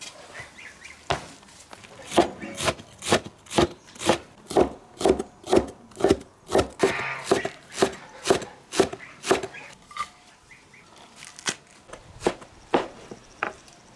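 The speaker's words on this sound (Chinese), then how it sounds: "现在把辣子和小蒜都切碎" A knife chops chili peppers and wild garlic on a board in a rural home kitchen, a fast, even run of sharp close-up knocks that pauses briefly and then resumes, with no talking.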